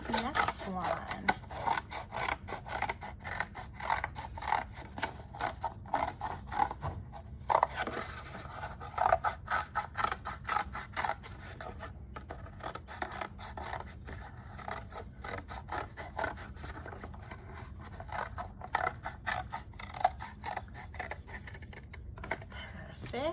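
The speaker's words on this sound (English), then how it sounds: "Let's cut out our next one." Scissors cutting out a paper snowman decoration, a string of quick crisp snips and rustles of paper repeating irregularly, with faint handling noises between cuts.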